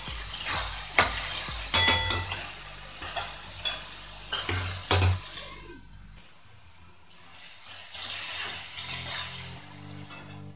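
Soaked moong dal frying in a pan with a little ginger paste, a crackling sizzle under sharp scraping and stirring clicks that ease into a softer, steady hiss.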